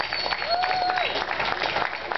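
An outdoor crowd at an art and wine festival claps in a continuous wash of applause, with a faint tone and some talk mixed underneath.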